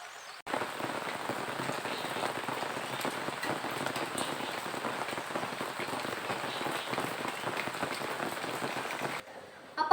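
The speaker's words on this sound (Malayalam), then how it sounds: "അയ്യോ, മഴ പെയ്തു തുടങ്ങി." Steady rain falls outdoors, starting abruptly as a dense, even patter on surfaces that holds for several seconds before cutting off near the end.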